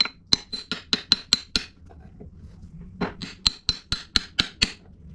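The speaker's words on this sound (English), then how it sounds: "There's more hammer on hammer violence than there is ever" A hammer strikes another hammer during camshaft installation on a 318 engine. Two quick runs of sharp, ringing metallic blows, about seven, then eight, are loud and close. A short quiet gap separates them.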